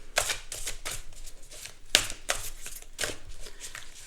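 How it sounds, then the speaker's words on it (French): Tarot cards being drawn and handled from a deck, with a series of close, crisp card flicks and slides in quick irregular bursts and no talking. "Alors, je vais tirer 2 cartes ici."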